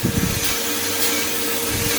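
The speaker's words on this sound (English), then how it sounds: "It's oil base, rapeseed oil, and you spray absolutely everywhere." Rapeseed oil bake spray hissing from an aerosol can at close range, a steady broadband spray held for about two seconds with no talk.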